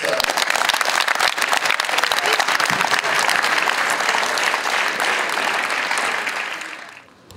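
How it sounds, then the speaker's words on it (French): Audience at a tennis open prize-giving applauds a Swiss finalist, thick continuous clapping that stays loud for most of the stretch before tapering off near the end. "Merci d'applaudir Finn Richter"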